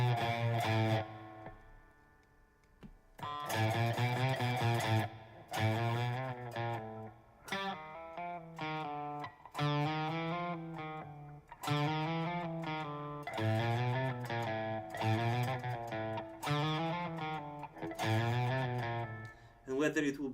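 Electric guitar played cleanly without distortion during a practice session, with sustained ringing notes and bent phrases in several passages separated by brief pauses, close and fairly loud.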